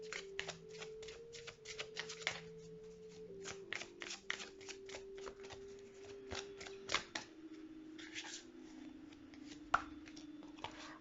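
Tarot cards are shuffled by hand in quiet, repeated crisp riffles and flicks, soft and close, with a faint tonal hum running underneath.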